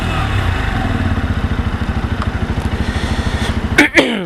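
A Lexmoto Assault motorcycle engine idles right after starting, a steady close, loud, even pulsing chug, ending with a couple of sharp clunks or revs near the end.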